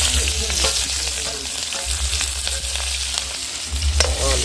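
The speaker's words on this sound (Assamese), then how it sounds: "আমাৰ তেল গৰম হৈ গৈছে মই দিম এতিয়া পিঁয়াজ দি দিয়া" Onions sizzle and fry steadily in hot oil in a pan, a loud, continuous crackling hiss with occasional stirring, no voices.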